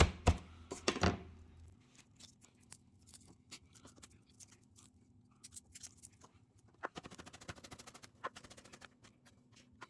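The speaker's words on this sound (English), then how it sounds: "4 cloves of garlic, we'll just crush those and roughly chop that" Four garlic cloves crushed and roughly chopped with a knife on a board, a couple of heavy thuds followed by a run of quick, light chopping taps, close and fairly quiet with no talking.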